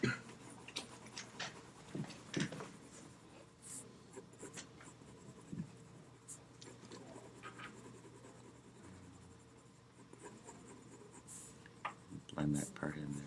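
A mechanical pencil moves across paper while graphite shading builds up a doughnut drawing, making soft, steady scratchy strokes close to the microphone. Someone talks quietly over the drawing.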